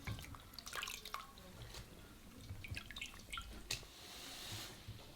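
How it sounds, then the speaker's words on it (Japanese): Morel mushrooms being washed by hand in a bowl of water to remove sand and grit, with soft drips, splashes and sloshing close by, in irregular bursts and no talk. "これを繰り返しながら洗ってモリュウだけを手で取って新しい水に移し替えていきます"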